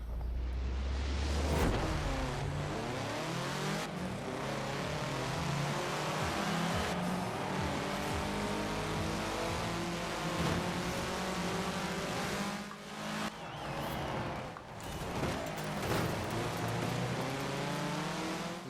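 A B-class car racing in Forza Horizon 4 in a winter setting, its engine revving loudly and continuously with rising and falling gear sweeps, brief tire squeal and upshift breaks throughout.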